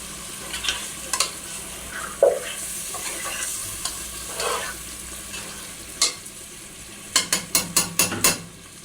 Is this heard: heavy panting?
no